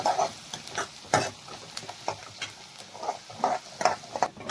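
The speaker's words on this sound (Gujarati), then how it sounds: "ડુંગળીને ધીમા ગેસે આપણે એકદમ સરસ ગોલ્ડન બ્રાઉન કલરની થાય ત્યાં સુધી સરસ શેકી લઈશું" Sliced onions sautéing over a low gas flame until golden brown for dal tadka, with a soft steady sizzle broken by intermittent stirring scrapes and taps of a spoon in the pan, close by and without talk.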